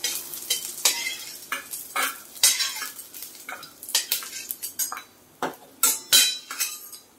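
Ridge gourd pieces roast in oil in a pan with a steady sizzle, while a spatula scrapes and clinks against the metal again and again in an uneven stirring rhythm, close by.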